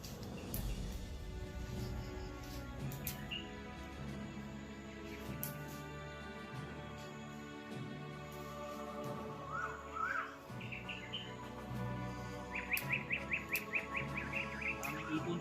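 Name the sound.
mountain birds chirping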